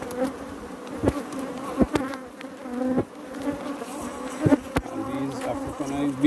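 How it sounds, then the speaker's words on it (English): Honeybees buzz busily around a hive frame during a honey harvest, a close, droning hum that wavers in pitch, broken by several sharp clicks and knocks from handling the frame. "Bees starting to do their thing already."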